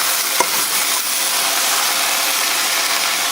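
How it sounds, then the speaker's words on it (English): Egg frying in a pan alongside Chinese sausage and onions gives a steady, loud, close sizzle, with one brief clack near the start. "So next I'm just going to put the egg in there"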